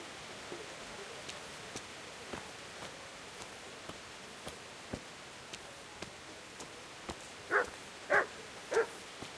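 Dogs bark in Kingdom Come: Deliverance, all one breed. Faint, sparse barks repeat across a quiet outdoor ambience, then three louder, nearer barks come close together at the end.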